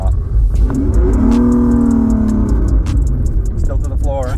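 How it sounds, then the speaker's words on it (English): A Toyota RAV4 engine revs hard with the brake held, its pitch climbing and holding, then power cuts and the revs drop back, loud and close under a steady cabin rumble. "The engine cuts power and I'm not going anywhere."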